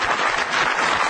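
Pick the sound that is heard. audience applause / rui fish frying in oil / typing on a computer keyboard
audience applause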